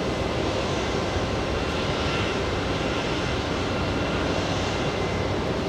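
A Delta passenger jet arriving from Heathrow at JFK airport gives a loud, steady engine roar that fills the whole stretch without pause, with no talk over it.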